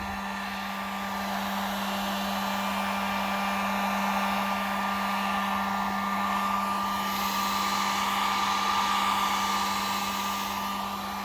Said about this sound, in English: we'll achieve that with our heat gun. Yep, we're warming up a surface